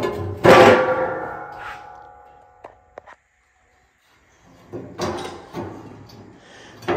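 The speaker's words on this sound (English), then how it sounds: "I got the door all welded up here. Just made my own hinges." A homemade welded steel stove door swings on its handmade hinges, with a loud metallic clunk and scraping followed by lighter clanks and a second burst of grinding metal movement in a quiet workshop.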